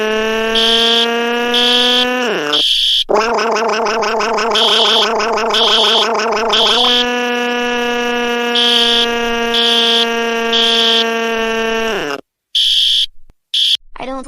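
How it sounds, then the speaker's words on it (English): A cartoon fire alarm blares loudly in a repeating electronic buzzing pattern with pulsing tones, holding for about twelve seconds before cutting out, then brief bursts return near the end. "Please, the fire alarm is very noisy."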